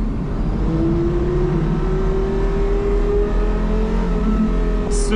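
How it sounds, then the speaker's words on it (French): Porsche Carrera GT engine revving loud and steady, a continuous high-pitched mechanical wail with rising tones under a deep rumble, close and sustained throughout. "Ce moteur, mais on sent que c'est la compétition, on le sent dans ses vibrations, dans son timbre."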